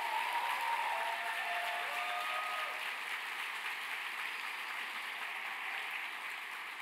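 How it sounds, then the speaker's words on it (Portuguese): A church congregation applauding the Lord, a continuous, even roar of many clapping hands that fills the room and holds steady throughout, with faint tonal traces near the start. "dê um forte aplauso ao Senhor"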